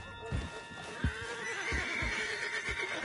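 A horse in Red Dead Redemption 2 whinnies loudly, then snorts over several heavy hoof thuds and stamps, close and fairly quiet, with no talking.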